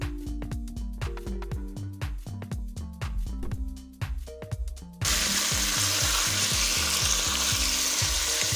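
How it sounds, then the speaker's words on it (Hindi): Chicken frying in oil for chicken nihari hisses in a steady, loud sizzle that cuts in after several seconds of rhythmic music and then holds evenly. "चिकन को ऑयल में फ्राई करेंगे।"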